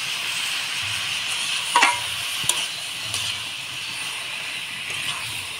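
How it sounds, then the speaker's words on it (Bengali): A spiced mix of chopped tomato, green chilli, turmeric and salt is stirred in a pan, a quiet steady sizzle with a few sharp scraping clicks of the spoon against the metal. "এবার ভালো করে নাড়াচাড়া করে নেব।"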